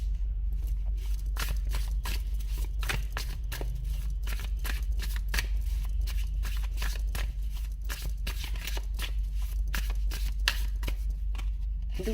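Tarot cards shuffled continuously up close, a long run of quick, crisp riffling flutters and soft slaps, steady and alone over a low background hum.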